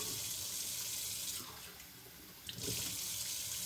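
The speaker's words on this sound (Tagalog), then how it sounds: "Apat na takal din yung lalagay natin yung tubig na." Tap water runs into a cooking pot while rice is prepared for chicken tinola with papaya, a steady close rush of flowing water that briefly thins in the middle before pouring strongly again.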